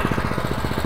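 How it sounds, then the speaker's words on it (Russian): A walk-behind tractor engine from UGRA runs after starting, giving a steady, rapid low chugging throb with a constant mechanical drone, close and fairly loud. "Моторчик дернулся, завелся."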